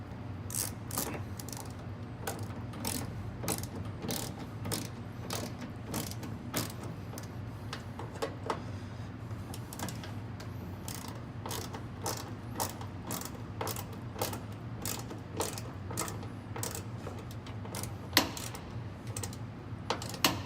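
Ratchet tightening screws back into their holes, repeated rapid bursts of sharp metallic clicks over a low steady hum, close by and with no talking.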